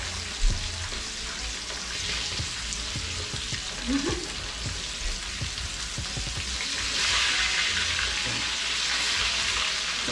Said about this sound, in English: That one needs to fry a little bit more on the other side